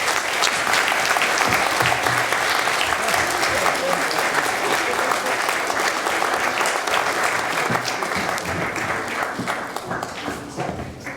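Sustained applause from an audience at a spring concert of the Kadrina art school, dense and loud throughout with a slight easing toward the end.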